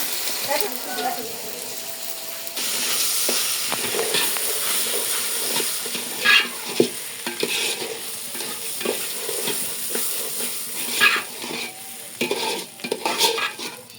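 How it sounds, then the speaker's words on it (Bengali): Rice stirred and fried in oil with onions in a pot for biryani, a steady sizzle with repeated scraping and clinking of a spoon against the metal pot, close by, with no other sounds. "চাউল কষান শেষ,"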